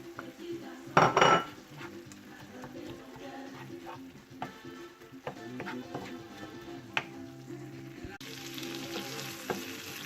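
Onions and parsley fry in a pan. A brief loud burst of sizzle comes as they hit the hot oil, and a low steady crackle follows with occasional clinks of a utensil against the pan. No one speaks.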